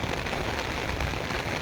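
Steady broadband wash of heavy rain falling in Taunsa Sharif, an even close hiss throughout, with no talking.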